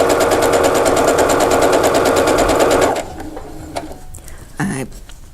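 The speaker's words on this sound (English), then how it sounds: "I sewed past the first slit" A sewing machine runs fast and loud, stitching fabric past a slit with a rapid, even mechanical rattle for a few seconds before stopping, followed by soft handling clicks and rustles.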